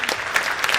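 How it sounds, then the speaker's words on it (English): Audience at a middle school concert claps in a brief burst of applause, a dense patter of many hands close by, lasting under a second with no voices over it. "One big round of applause."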